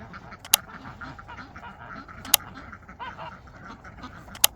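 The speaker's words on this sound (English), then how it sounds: "I love how all the ducks move as one." A flock of farm ducks moving together toward a pond quacks continuously in overlapping nasal calls, fairly close, with a few sharp clicks or taps at intervals.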